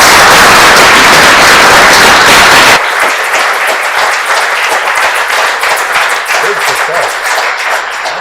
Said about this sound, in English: let's give Bill one more round of